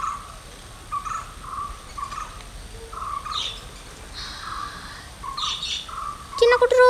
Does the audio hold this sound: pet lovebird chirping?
yes